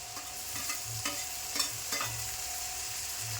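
Cucumber and tomato frying in a pan are stirred with a utensil, giving a soft continuous sizzle broken by several sharp scraping strokes against the pan.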